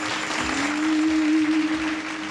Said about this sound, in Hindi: तो आप लोगों की भरपूर तालियों में अफशा साहिबा, प्लीज।